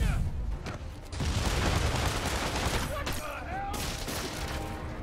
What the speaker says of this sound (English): Rockets? Who brings rockets to a museum?